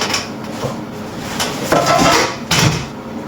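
A frying pan and metal cookware clank and scrape in a kitchen while making syrnyky: a few knocks and a couple of louder clattering bumps, close by, with no talking.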